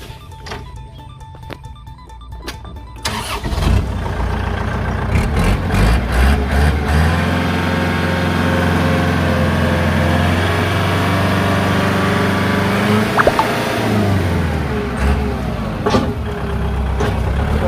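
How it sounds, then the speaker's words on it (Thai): A used Kubota L4708SP tractor cranks and its diesel engine catches after a few quiet seconds, then settles into a loud, steady, close idle with a low, throbbing rumble that continues to the end. "เดี๋ยวเราลองมาสตาร์ทเครื่องยนต์ดูนะครับ"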